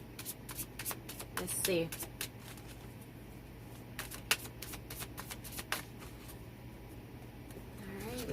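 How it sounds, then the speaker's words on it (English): A deck of tarot cards being shuffled by hand, with a burst of riffling near the start and scattered soft card flicks and taps throughout, under a quiet voice speaking briefly. "I'll shuffle the deck 5 times, cut, and then lay out the cards."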